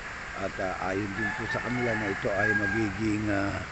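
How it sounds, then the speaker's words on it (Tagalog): Roosters crowing at six in the morning in the Philippines as a typhoon approaches, several long crows rising behind someone speaking steadily in the foreground. "marinig siguro sa paligid yung ingay ng mga manok kasi na alas 6 pa lang ngayon"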